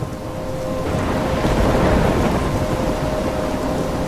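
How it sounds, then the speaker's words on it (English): Thunderstorm in the video game Life Is Strange on PS4: a steady, loud wash of rain and rumbling thunder fills the whole stretch, swelling slightly near the middle, with no voices over it. "I'm trapped in a storm?"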